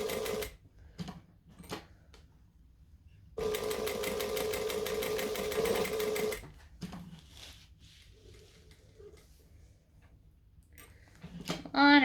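A sewing machine stitches slippery blue vinyl on a long stitch length, running in one steady burst of rapid mechanical whirring for about three seconds between quieter handling noises and brief pauses.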